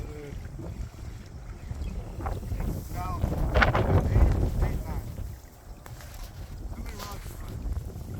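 Wind gusting over the microphone on a fishing trip by the water, a heavy low rumble that builds to a strong surge in the middle and then eases, with people talking over it.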